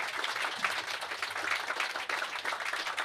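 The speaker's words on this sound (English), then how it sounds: "round of applause for Tony" Warm, continuous applause from a small live audience after a talk by Tony Gosling, even clapping with no voices over it.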